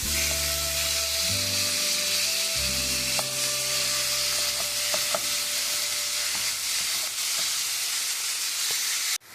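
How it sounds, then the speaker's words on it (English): Ground beef and onions fry in a pan with a broad, steady sizzle while being stirred and broken up. Faint scraping knocks of the utensil come through over a low hum, and the sound cuts off abruptly at the end. "Now we're going to add in our ground beef. We're going to break it down and make sure it's mixed well"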